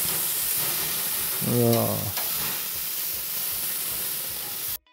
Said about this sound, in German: Und jetzt packen wir die Steaks einfach hier direkt auf die Flamme.